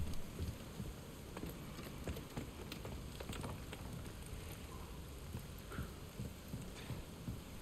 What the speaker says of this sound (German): Kann der Regen eigentlich irgendwann mal aufhören?